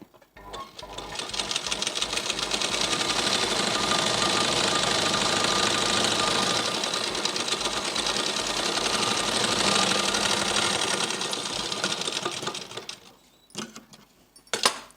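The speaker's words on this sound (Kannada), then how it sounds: "ನಮ್ಮ ರೈಟ್ ಸೈಡಿಗೆ ಮಾಡಿಕೊಂಡು ಒಂದು ಸ್ಟಿಚ್ ಹಾಕ್ಬೇಕಾಗುತ್ತೆ ಲೈನಿಂಗ್ ಮೇಲೆ" A sewing machine stitches along garment lining for a leaf-shaped thread-piping finish. The rapid mechanical whirring runs steadily and up close for about twelve seconds, then stops with a few faint clicks.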